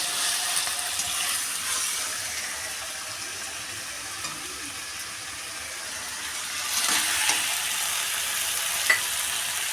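Spice masala for chilli chicken sizzles and fries in a pan, a steady hiss with occasional stirring scrapes, growing louder and brighter for the last few seconds; no voices.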